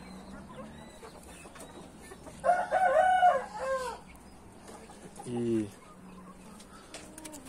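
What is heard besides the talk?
naked neck chickens and rooster clucking and crowing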